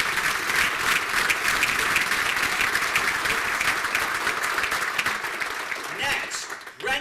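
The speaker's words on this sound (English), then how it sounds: "please, in the spirit of the evening, do not wait to recognize them with applause till I'm done" A banquet audience at a college senior athletic awards evening breaks into sustained, full applause, many hands clapping densely and steadily for about seven seconds, easing slightly near the end.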